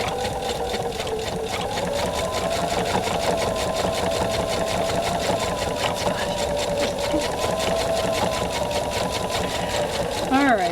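A sewing machine set up with a twin needle stitches two parallel rows in a fast, even mechanical chatter that runs steadily throughout, close and moderately loud.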